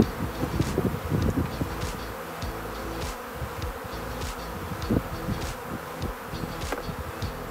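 Honeybees shaken from hive frames into a nucleus box while splitting a colony, a dense, wavering buzz of many insects close by, rising and falling in intensity without any talking.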